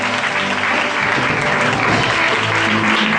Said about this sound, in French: Je veux qu'on acclame le Seigneur pour la présence déjà de notre orateur.